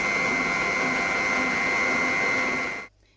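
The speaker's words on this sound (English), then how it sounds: "you don't want to be whisking it too fast, just a medium speed." An electric stand mixer whisks meringue at medium speed, giving a steady, close motor whine with a faint rhythmic beat before it cuts off abruptly near the end.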